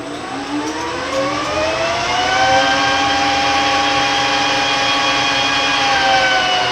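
Old Colchester lathe driven by a VFD at increased speed, a continuous loud mechanical whine with rising tonal hum and a low rumble underneath, steady throughout with no speech.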